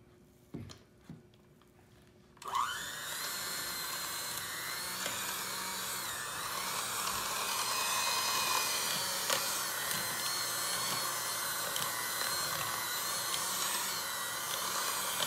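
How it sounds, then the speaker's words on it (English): Electric hand mixer blending dry and wet ingredients into cinnamon cookie dough, a steady loud whirring that starts abruptly after a brief quiet moment and runs continuously to the end. "And now we're mixing the dry and wet ingredients."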